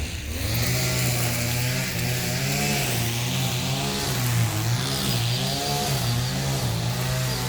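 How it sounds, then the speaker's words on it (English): Outdoors in La Fortuna, Costa Rica, a weed whacker's small engine runs continuously and loudly close by, its buzzing pitch wavering as the throttle eases and picks up, with no talking. "Working that machete and the weed whacker."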